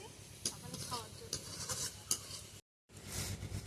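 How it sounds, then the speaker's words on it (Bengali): Potatoes frying in a pan for aloo bhaja, with repeated spatula scrapes and stirring over a low sizzle, cut off briefly by a short silent gap before the frying resumes. "তার জন্য আলু ভাজা করছি সকালে খাওয়ার জন্য"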